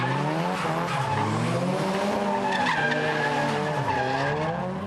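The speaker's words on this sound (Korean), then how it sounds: "타이어가 바닥에 미끄러지면서 검은 스키드 마크를 만들어낸다." Racing car tires skidding across the road surface in loud, sustained squeals that rise and fall in pitch, mixed with engine roar and without any voices.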